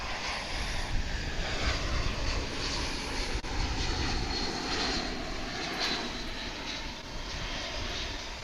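A jet airliner arriving from Oklahoma City comes in to land at DFW International Airport, its engine whine and rushing roar sustained and fairly distant, with faint wind noise and no talk.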